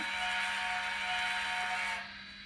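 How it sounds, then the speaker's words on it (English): A DCC model locomotive whistle sounds as a steady, close, continuous hiss-like tone that holds for about two seconds, then cuts off abruptly and leaves quieter background noise. "So on and off for the whistle, so we can leave it running."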